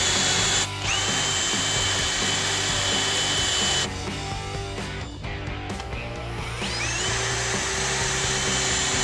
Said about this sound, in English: Back to drilling.